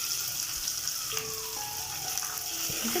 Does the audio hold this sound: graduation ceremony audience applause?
no